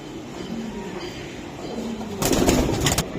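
Racing pigeons cooing in a loft, soft low repeated coos over a steady background, with a louder burst of fluttering or shuffling near the end.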